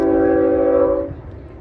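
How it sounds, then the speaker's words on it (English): A sustained train horn blares loudly for about a second, then drops away into the low rumble of the passing train beside a baseball tournament diamond. "you can actually hear the train going by in the back"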